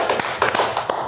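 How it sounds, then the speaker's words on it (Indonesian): A brief round of hand clapping greets a guest arriving at his home: a few sharp claps over about a second, close and fairly loud, with no voices. "Tepuk tangan."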